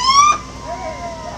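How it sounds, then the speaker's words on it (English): A state police car siren sounds during a Memorial Day drive-by parade in Sharpsburg, Maryland: a loud, short wailing burst, then a fainter, wavering tone that trails off. "Police car, state police."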